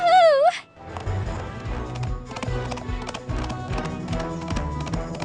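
Pony hooves gallop in a My Little Pony video game, a fast, loud rhythmic clip-clop under bouncy game music after a brief high cartoon vocal at the start.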